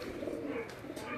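Flying pigeons cooing on a rooftop, a steady low murmur of coos throughout, fairly close and continuous with a faint voice in the background.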